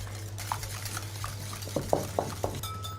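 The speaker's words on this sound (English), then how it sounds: "Give that a little stir." A spoon stirs an egg and ricotta omelette mixture in a bowl, giving a handful of light, rhythmic taps and scrapes close by in a quiet kitchen.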